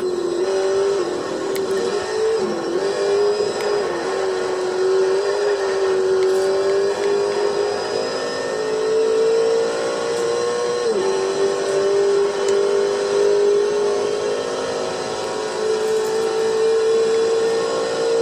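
Race car engine in a PS3 racing video game, a loud steady high-pitched drone that rises and dips slightly with gear changes, continuous and close for the whole stretch with no talk.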